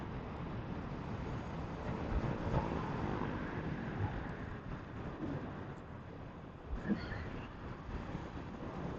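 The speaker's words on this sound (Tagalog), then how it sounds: "So ang lakas ng hangin." Strong wind buffets the microphone during a motorcycle ride at around 100 kilometers per hour, a steady loud rushing roar that swells and dips throughout.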